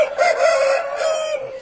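A rooster crows once, loud and close, in a single sustained call that rises and holds before tailing off, with no talk over it.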